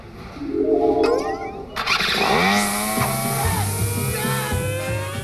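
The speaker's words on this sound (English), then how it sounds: "I'm just checking out this Home Light electric start gas trimmer." A Home Light gas-powered string trimmer with electric start cranks up at the push of a button, then roars into a loud, rising two-stroke whine and settles into a rough idle close by.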